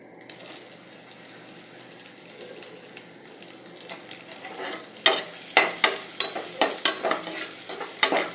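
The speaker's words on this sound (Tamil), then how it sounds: "வெங்காயம் கொஞ்சம் நல்லா வதங்கட்டும்." Onions frying in a pan for peas pulao, stirred with a utensil: a soft sizzle builds, then loud close scrapes and clatters of stirring arrive in a quick irregular rhythm, with no talk.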